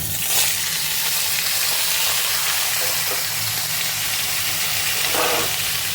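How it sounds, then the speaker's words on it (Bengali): Yardlong beans, potato and pointed gourd frying in hot oil give a loud, dense, continuous sizzle up close, with a few brief stirring scrapes and no voices. "এবার আমি এর মধ্যে সবজিগুলো দিয়ে দিচ্ছি"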